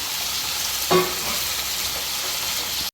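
Okra, tomato and onion fry in hot oil with a steady, close hiss and a single utensil clink early on, the sizzle running evenly until it cuts off.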